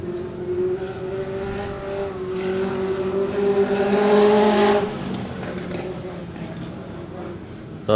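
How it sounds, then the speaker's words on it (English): Legend Cars roar around the track in a 20-lap feature race. A pack of engines swells to a loud peak as they pass close by, then drops back to a steady distant drone. "20 lap feature race for the City Discount Tyres Legend Cars"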